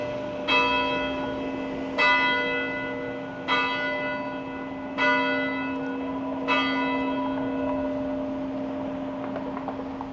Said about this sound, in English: looks like the church bells are ringing